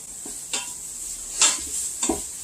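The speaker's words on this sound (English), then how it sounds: "cook the onions till they're soft. So that's pretty easy. Butter and onions." Onions softening in butter in a pan for risotto, a steady quiet sizzle with a few soft stirring scrapes and clinks of a utensil against the pan.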